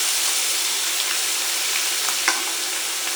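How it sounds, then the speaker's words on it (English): Steaks sizzle steadily in a hot pan with butter, a close, constant hiss with faint spattering crackles and a brief spoon scrape while basting. "so I'll put a little bit of butter in. And I'll give them a little baste."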